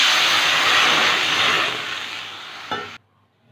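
Water is poured into a hot wok holding roasted mung dal and bursts into a loud, broad steamy hiss that slowly fades, then ends abruptly.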